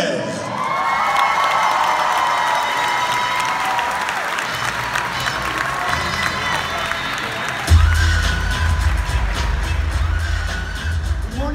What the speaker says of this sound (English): Please welcome your Firm Conference MCs, Jesse Lambert and Alejandro Rodriguez.